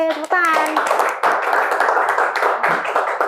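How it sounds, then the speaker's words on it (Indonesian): A few people clap their hands in a podcast studio, close and crisp. A brief cheering voice opens the clip and talk continues over the clapping. "Yeay, tepuk tangan."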